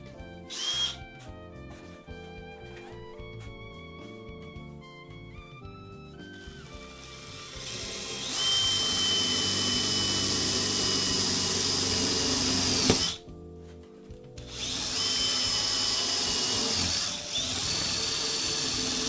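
A power drill bores holes for M4 screws while building a rolling oven, giving two sustained, loud whirring bursts with a short pause between them, after quieter tonal clatter at the start.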